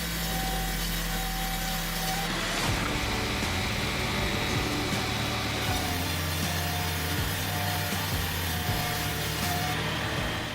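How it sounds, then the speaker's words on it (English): A large wood grinder chews through substantial logs, a steady loud mechanical roar with rough grinding and rasping texture that shifts after a couple of seconds and continues without a break, with no voices. "the Vance grinder takes just minutes to reduce substantial logs into manageable pieces"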